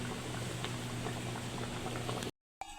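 Rice boiling in water for mutton pulao, a dense, steady bubbling and popping heard close and loud with no talk, which cuts off abruptly near the end.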